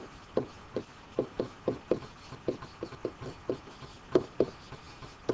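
Pen or marker strokes writing an equation by hand, a steady run of short, close taps and scratches in uneven rhythm, with no one speaking.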